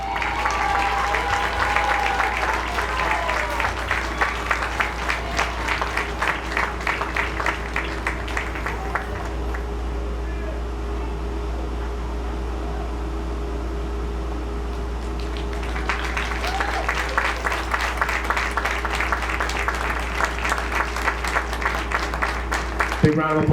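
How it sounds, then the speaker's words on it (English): An audience at a high school athletics awards ceremony claps for the nominees in two sustained bursts of applause, separated by a quieter stretch where a voice speaks over a hall murmur. "Big round of applause for all of our nominees, MVPs, athletes that we were able to recognize this evening"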